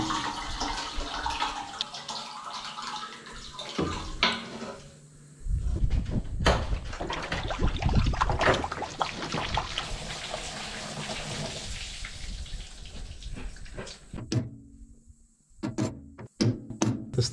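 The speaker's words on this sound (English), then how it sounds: "Sticking a garden hose into a fuel tank and preparing to turn it on." Water from a garden hose pours into an opened CAT D3 bulldozer fuel tank, a steady rushing splash with bumps and knocks partway through, then a few sharp clanks near the end.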